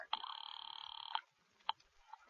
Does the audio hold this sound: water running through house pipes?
no